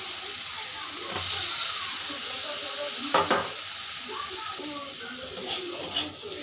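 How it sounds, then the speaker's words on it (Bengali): Potato pieces fry in hot oil with spiced masala and a pinch of sugar, giving a steady close sizzle with a few spatula scrapes against the pan toward the second half. "আলুগুলো দিয়ে দিলাম, এখন ভালো থেকে অল্প ভেজে নেব।"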